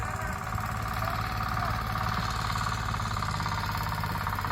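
Tractor engine digging a reservoir pit in the Parahyangan mountains, a steady, loud mid-pitched mechanical drone with a rattling, knocking undertone that continues without a break.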